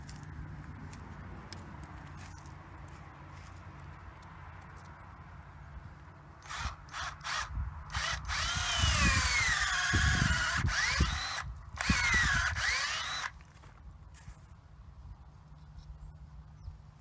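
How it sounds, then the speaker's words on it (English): Power drill boring a tap hole into a backyard maple tree, a few short bursts and then a sustained whining grind into the wood, close and loud, no talking. "tap requires a larger drill bit."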